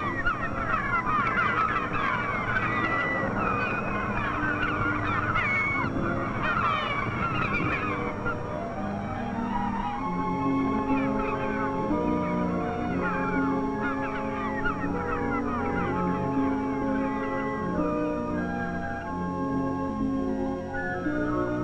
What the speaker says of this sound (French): Les goélands qui meublaient le ciel de leur impatience disputent à la marée montante les déchets de poissons